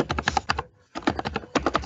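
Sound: loud typing on a computer keyboard

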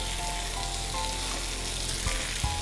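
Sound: potatoes frying in a pan

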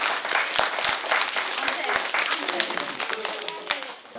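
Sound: audience applause after a children's story reading

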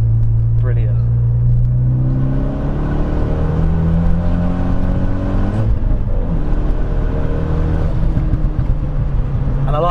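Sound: forged Renault Megane R26 hot hatch engine

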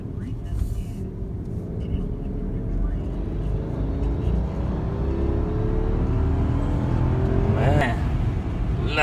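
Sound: Rolls-Royce Ghost V12 car accelerating

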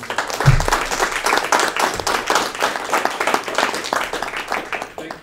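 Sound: audience round of applause

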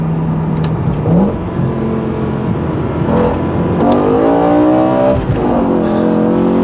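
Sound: BMW M6 E63 V10 engine revving

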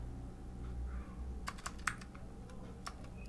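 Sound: typing code on a computer keyboard

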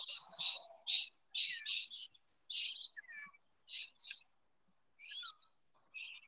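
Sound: birds singing in the background

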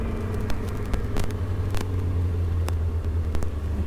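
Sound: motorcycle accelerating in second gear without clutch

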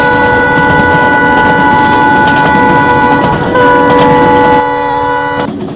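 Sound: Humsafar Express train running, from a train video game

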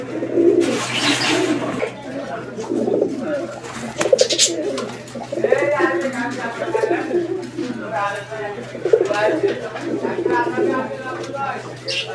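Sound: fancy pigeons cooing in a loft

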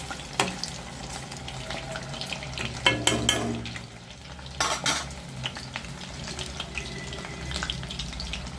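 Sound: potato snack frying in oil over medium flame

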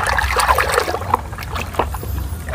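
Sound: toy being shaken in water while cleaning

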